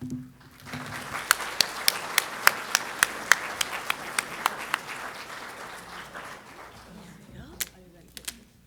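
Audience applause welcoming keynote speaker Dr. Jayashree Rao at a Parkinson's conference, a steady wash of many hands clapping in a large room with sharp individual claps standing out, fading near the end as a few scattered claps remain.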